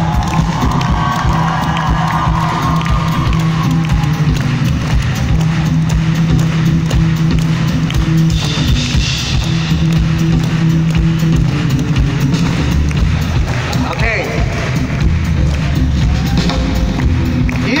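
A concert crowd at MP2 in Poznan, Poland, cheers, shouts and claps loudly and continuously as the band comes on stage, a dense roar that fills the room throughout.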